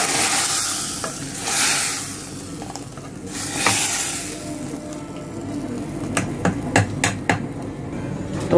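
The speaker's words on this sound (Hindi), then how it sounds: "तो ये मैं दे रही हूँ दाल को तड़का" Tadka hitting dal in a pressure-cooker pot, with broad hissing sizzle bursts followed by a run of sharp metallic taps and clinks near the end, fairly close.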